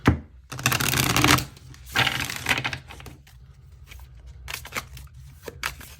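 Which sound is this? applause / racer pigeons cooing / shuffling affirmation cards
shuffling affirmation cards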